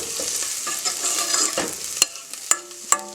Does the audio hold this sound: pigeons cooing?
no